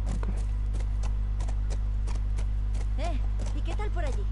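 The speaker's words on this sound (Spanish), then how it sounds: "Por aquí sí que se puede pasar con el caballo." A horse's hooves clip-clop at a walking pace in The Last of Us Part 1, an even rhythm over a steady low background hum, with brief voice fragments on top.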